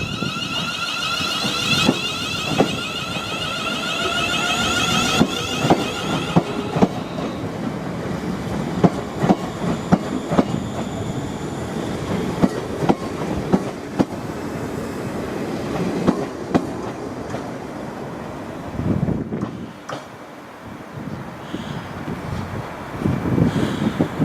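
A train bound for Birmingham rumbles steadily past with rhythmic clattering of wheels over rail joints, a high metallic whine above, moving away at Northampton station with no voices.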